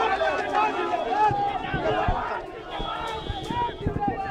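A crowd celebrates an Asom Jatiya Parishad election victory in Guwahati, loud cheering and shouting voices overlapping in a dense, boisterous hubbub with scattered thumps and whistles.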